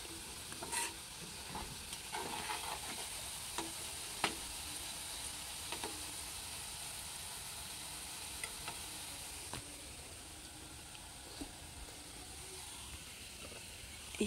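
Julienned potatoes fry in a pan with a faint, steady sizzle heard from some distance. Sharp clicks and scrapes from stirring recur throughout.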